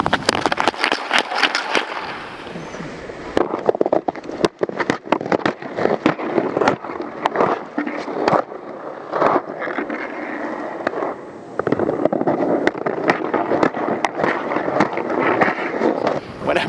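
Ice skates carving a crossover start into forward strides, a series of sharp scraping crunches in an irregular explosive rhythm, loud and close on the ice, no talk.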